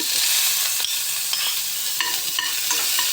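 Mustard seeds crackling and small shallots frying in hot oil for a jackfruit dish, a bright continuous sizzle with scattered sharp pops and stirring clicks, close and loud, no voices.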